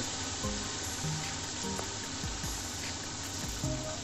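Fish pieces shallow-frying in hot oil, old-style home cooking: a steady loud sizzle and crackle runs throughout, with a few brief scraping touches of a utensil and no voices.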